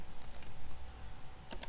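Quiet clicking of computer keyboard keys comes in a short burst of typing, faint and close, with no voices.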